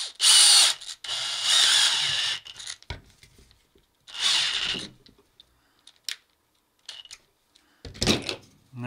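Short bursts of a power drill driving a screw into a less-lethal pistol whir on and off several times, separated by silences and small clicks and handling sounds.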